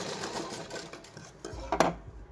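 A sewing machine stitches a blouse sleeve in a short, fairly quiet run of rapid needle chatter. It ends in a brief louder clack as it stops.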